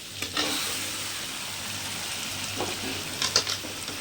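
Quail pieces sizzle and spit in a hot pan for a pepper gravy, a steady frying hiss broken by a few louder crackles and stirring scrapes near the start and end.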